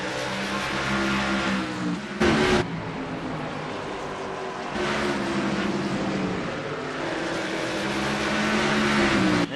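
Race car engines at South Boston in the iRacing Busch series game, a continuous layered drone of several cars with pitch shifting as they pass, plus a brief louder burst partway through.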